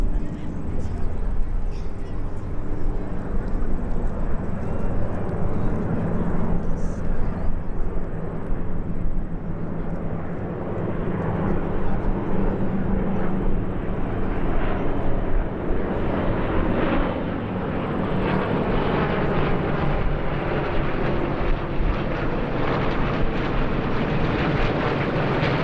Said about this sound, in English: The show started with all 11 aircraft flying over in a single formation